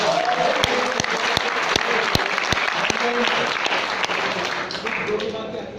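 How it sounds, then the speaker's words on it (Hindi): Loud, sustained applause from an audience at a family-health meeting, dense clapping throughout with a few sharp, distinct claps standing out, while a voice speaks over it. "और तालियां बजा दें जोरदार"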